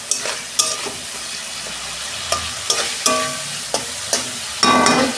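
Spice paste with Kashmiri chilli sizzles in hot oil for Bengali doi katla while a spatula scrapes and stirs it in a steady series of sharp strokes, close and loud, with no one speaking.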